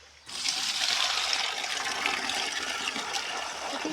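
Water drawn from a village well pours and gushes steadily for several seconds after a brief quiet start, a continuous close splashing rush with no talk.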